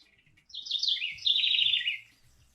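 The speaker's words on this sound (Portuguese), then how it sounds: "Essa é a nossa famosa corruíra" A corruíra, the house wren, sings one bright, rapid warbling phrase, clear and fairly close, against quiet background with faint low rustles.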